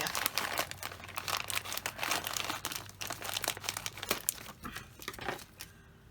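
A bubble-wrapped package from a craft-supply order is cut and pulled open, giving steady close crinkling and crumpling of plastic wrap with occasional tearing rips, without speech.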